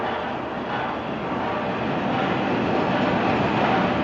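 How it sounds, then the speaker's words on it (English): A steam-era passenger train pulls in at a railway station platform, a steady, loud rumble of wheels and carriages rolling continuously close by with no voices. "The train now arriving at platform 3 is the 5:43 from Ketchworth."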